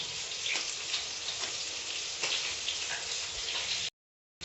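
Eggplant, flat beans and carrot frying in a pan: a dense, continuous sizzle with crackling pops and soft stirring clicks, steady and close, with no speech, ending in a short cut to silence.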